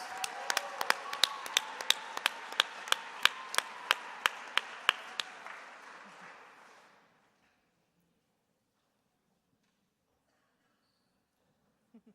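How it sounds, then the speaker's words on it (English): A round of applause for real estate development and construction award honorees, heard as sharp, closely spaced claps over a soft clapping wash that fades out after about seven seconds, leaving near silence. "Please join me in a round of applause for Indy's best and brightest real estate development and construction honorees"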